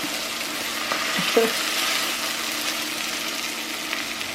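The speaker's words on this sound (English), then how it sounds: "So a few minutes to saute this saltfish" Saltfish sautéing in a pan gives a steady, close sizzle and crackle throughout, with faint clinks from stirring and no talk.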